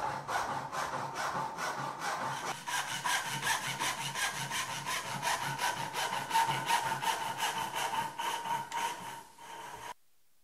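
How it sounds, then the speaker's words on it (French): A hand saw cuts dovetail joints in wood, with rapid, rhythmic back-and-forth rasping strokes, close and clear, continuing for about ten seconds before stopping; no talking. "on a tous nos traits de scie"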